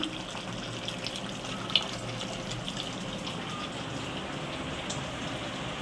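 Tap water runs steadily into a bowl being rinsed in a home kitchen while a mutton and potato curry cooks, a faint, even hiss with one small clink, and no voices.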